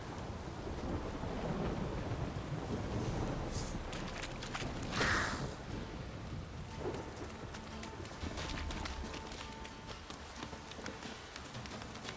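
Steady heavy rain pours throughout in the video game The Witcher 3: Wild Hunt, a dense hiss with a low rumble of thunder and a brief louder splash midway.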